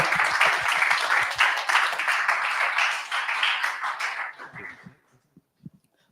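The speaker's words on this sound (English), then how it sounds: "Please give him a big round of applause." Audience applause for a speaker at a tech talk, dense steady clapping filling the room for about four seconds before thinning out and fading to a few scattered final claps.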